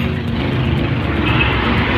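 A loud motorcycle with a modified exhaust pipe idles with a rough, throaty exhaust rumble, steady and close throughout.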